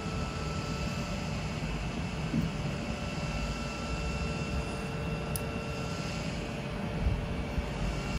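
The RedMagic Ice Dock cooler's 8,000 rpm turbo fan runs close by as a steady, even whooshing whir that holds at one level throughout.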